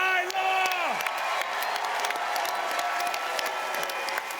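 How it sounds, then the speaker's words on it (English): Live show audience applauding and cheering for two guests, a sustained round of clapping with whoops and shouts, and a voice briefly heard at the start. "Let's give a round of applause for Big V and Ty Law."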